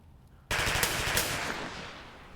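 Gunfire in the war game The Troop with UK forces, a sudden loud burst of rapid automatic fire that cuts in after a quiet moment and holds steadily before tapering off.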